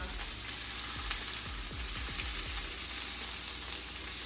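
Vegan beef steak tips fry in oil in a pan, giving a loud, continuous sizzle with scattered low pops and occasional stirring sounds, close by with no talking.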